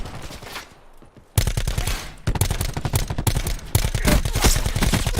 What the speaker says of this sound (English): he's shooting at somebody